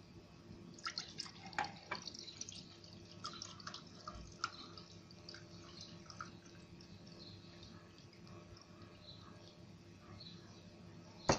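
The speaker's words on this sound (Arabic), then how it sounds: "صب كده كوباية ونوريه لكم" Homemade tamarind juice poured into a glass, a faint close splashing and trickling that fades into quiet dripping, with no talking.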